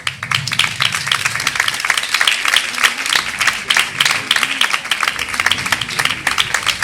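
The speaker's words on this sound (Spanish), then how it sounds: "convido con un fuerte aplauso a sumarse con nosotros a todas las personas que han participado en el vídeo" An audience at a campaign launch on masculinities gives a sustained round of clapping, many hands in a thick, even patter lasting the whole stretch, with faint voices and cheering murmuring underneath.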